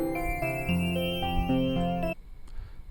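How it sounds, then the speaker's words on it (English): Menu music from the video game Project Butterfly: a soft, bright synth melody of plucked-sounding notes over a gentle bass line, stopping abruptly after about two seconds, then near silence. "One of them is menu music, sounds like this."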